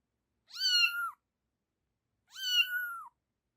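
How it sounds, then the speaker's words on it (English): A domestic cat meows twice, each a clear, drawn-out call about half a second apart from the next, close and alone with silence around them. "cat"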